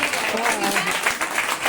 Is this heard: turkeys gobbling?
no